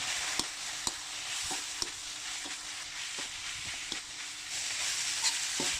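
Pork leg being stir-fried with curry paste and lemongrass in a pan, a steady broadband sizzle broken by regular scraping stirs about every half second, close and fairly loud with no voices.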